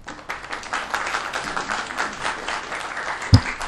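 An audience at a public hearing claps in a moderate, fairly brief round of applause, with a sharp thump near the end.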